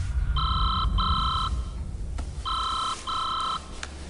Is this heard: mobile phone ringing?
yes